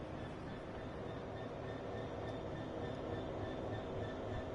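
Double-headed diesel train hauling roughly 315 tons in Train Sim World 5, a steady rumbling drone of engines and rolling stock with faint whistling tones, constant and close throughout with no talk.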